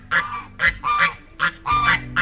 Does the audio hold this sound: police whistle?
no